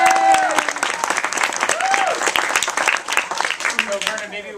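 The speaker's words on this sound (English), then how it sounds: "let's give a big round of applause to Vernon David." An audience gives sustained applause for a guest at a school event, dense clapping filling the room while a voice speaks over it.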